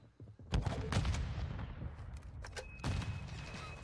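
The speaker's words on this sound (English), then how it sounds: "I'm just shooting." Video game gunfire during a Search and Destroy match, with several sharp shots ringing out over the round's background noise.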